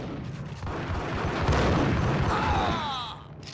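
A grenade explosion in the Max Payne PS2 game, a loud, close boom with a rumbling burst that swells and then fades over a few seconds, followed by a brief ringing tail.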